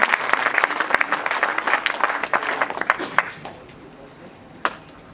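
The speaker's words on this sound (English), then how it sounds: "So please give him a big round of applause, and this applause is for all the speakers before me" Applause for the speakers at an evening gathering, a burst of many hands clapping that thins out and fades to near silence, with a final sharp clap or two.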